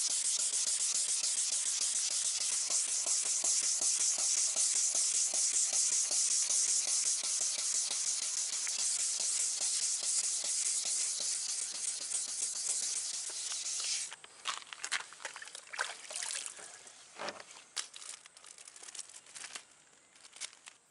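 Wet sanding of the degraded coating on a lens of an F56 MINI Cooper produces a loud, steady abrasive hiss for about fourteen seconds, then breaks into intermittent rubbing strokes and scrapes.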